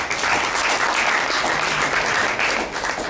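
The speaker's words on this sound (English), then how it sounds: "Please give a big round of applause to Rajat." Loud, dense applause from a conference audience, continuous clapping close and steady for the full few seconds with no talk over it.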